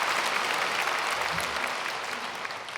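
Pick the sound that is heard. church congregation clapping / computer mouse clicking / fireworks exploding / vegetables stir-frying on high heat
church congregation clapping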